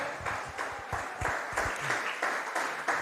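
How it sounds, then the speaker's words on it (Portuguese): A church congregation applauds together during a sermon, a dense and steady wash of many hands clapping that holds at an even, lively level throughout. "Pode aplaudir ao Senhor."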